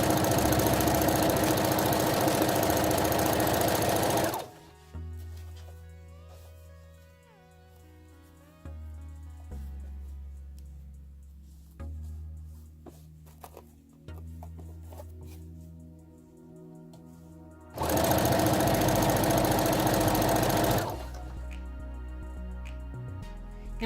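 A sewing machine stitches the edges of a stretchy tube dress, leaving the elastic unsewn, in loud steady mechanical bursts at the start and near the end, with quieter handling and clicking between.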